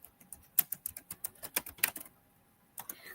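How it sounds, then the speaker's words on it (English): Quick keystrokes on a computer keyboard patter in a brief, irregular burst, close and fairly quiet, with a short pause before a few final taps. "Just going to type something."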